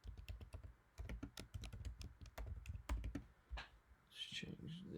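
Keystrokes on a computer keyboard while entering a property location into mapping software, a run of quick, close clicks in uneven bursts with brief pauses between them.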